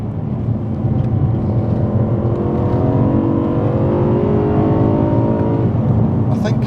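A BMW M3's V8 engine climbs steadily through the revs under hard acceleration, its rising drone loud and close from inside the cabin, with a brief click near the end.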